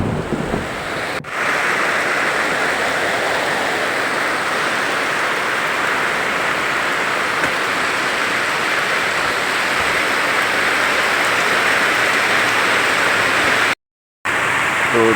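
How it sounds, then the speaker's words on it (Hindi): Continuous heavy rain pours down steadily for a long stretch in a village setting, a dense, unbroken hiss that sounds close and loud with no voices. "पानी गिरते गिरते 2 घंटा हो गया, अभी तक नहीं रुका है। लगातार पानी गिर ही रहा है"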